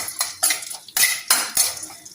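Metal utensil scraping and clanking against a pan in quick repeated strokes as green chillies and tempering are mixed, close and busy, with no talking.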